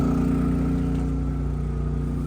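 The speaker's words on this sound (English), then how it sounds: "And the generator's there running." A generator runs outside during a March blizzard in Nebraska, giving a continuous steady engine drone with a constant low hum, moderately loud and unbroken, with no voices.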